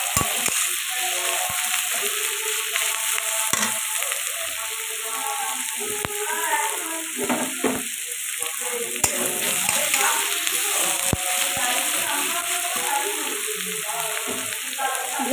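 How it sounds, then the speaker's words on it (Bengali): Onions fry in a pan with a continuous close sizzle, spatula scrapes and stirring knocks scattered through, a faint steady whine in the background and no talking. "তো পেঁয়াজটা ভাজা ভাজা হয়ে গেছে"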